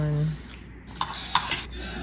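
A few light clinks of cutlery against dishes at a New Year's meal at home, faint and sparse over a steady low background hum.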